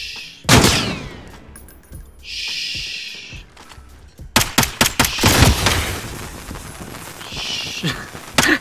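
Gunfire in Call of Duty: Modern Warfare: one heavy blast early, then a cluster of loud, sharp shots in quick succession, with hissing effects in between.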